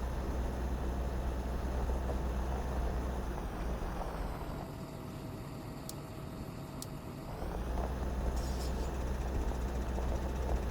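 Fendt tractor engine idling in the video game Farming Simulator 2015: a steady low diesel rumble with a constant hum, dipping briefly to a quieter tone midway before returning to a full idle, with no voices.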